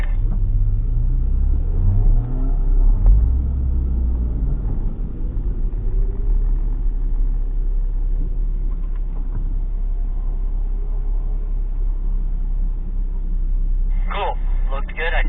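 A car accelerates through a slalom exercise, its engine rumbling loudly and steadily, rising in pitch early, with voices heard over it near the end.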